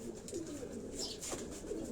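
A few pigeons coo softly on a rooftop, brief throaty calls rising and falling over a quiet background.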